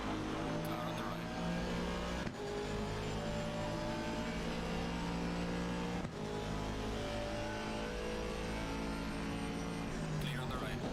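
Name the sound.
race car passing alongside, from the video game ACC at Monza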